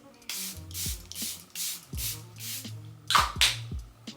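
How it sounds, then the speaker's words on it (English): Charlotte Tilbury Airbrush Flawless Setting Spray misted onto a face: about seven short, close hissing pump bursts in an uneven rhythm, with faint low sounds underneath. "Just gonna spray that all over my face"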